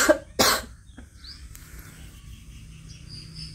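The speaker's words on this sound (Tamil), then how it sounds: "இருமல் வந்தானே" Two sharp coughs from a girl who feels sick enough to vomit, loud and close, come at the very start, followed by a quiet room with faint insect chirps and background hum.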